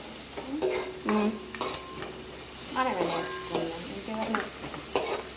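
Food is stirred and mixed in a pan, with repeated scraping strokes over a steady frying sizzle at close range.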